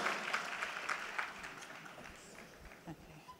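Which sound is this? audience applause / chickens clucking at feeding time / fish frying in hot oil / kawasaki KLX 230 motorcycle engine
audience applause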